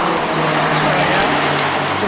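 A BMW Trophy Cup race car on a Brands Hatch track day roars past at speed, a loud steady engine drone heard from trackside.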